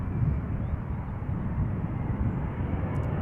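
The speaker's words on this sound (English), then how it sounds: "Airplane. I can hear it." An airplane passes over Amsterdam Schiphol Airport, a steady broad engine roar that stays loud and even throughout, with no voices.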